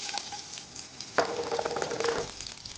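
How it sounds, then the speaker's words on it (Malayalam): Fenugreek seeds and chopped garlic sizzle in hot oil in a Kerala home kitchen, with a sudden burst of crackling as the garlic hits the pan, then a steady close frying hiss with light stirring. "ആദ്യം തന്നെ ലേശം ഉലുവ നമ്മൾ ഒരു ചെറിയ ചുമന്ന നിറമാവുന്നവരെ അത് മൂപ്പിച്ചെടുക്കണം"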